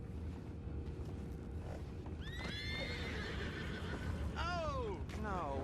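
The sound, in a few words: horses neighing in the video game Red Dead Redemption 2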